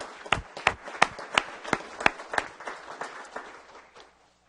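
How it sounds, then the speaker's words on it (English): A round of applause at a city council meeting: sharp clapping from a modest group, dense and steady for about four seconds before tapering quickly to silence, with no voices over it. "Let's give her a nice round of applause."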